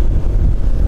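Steady low roar of wind buffeting the microphone during wind and rain while riding a Honda Vario 110 motorcycle, loud and constant, with a rushing, gusty texture throughout.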